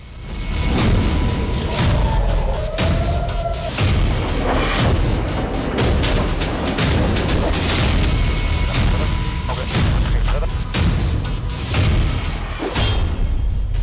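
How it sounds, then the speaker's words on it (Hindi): Ballistic missiles fired by Iran striking Israel, a long run of heavy booms and sharp blasts crashing repeatedly and irregularly, loud and dense, with voices mixed in beneath. "ईरान ने इजराइल पर दागी बैलिस्टिक मिसाइल।"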